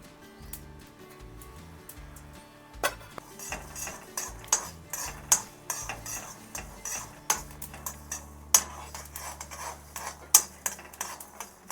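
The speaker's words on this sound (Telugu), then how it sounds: "ఇప్పుడు మనం ఇవన్నీ కలుపుతూ ఉండాలి" Sesame seeds, star anise, cumin, fenugreek and cinnamon dry roasting in a pan for egg pulusu, stirred with a metal spatula that clinks and scrapes against the pan in an irregular run of sharp taps, with no talking.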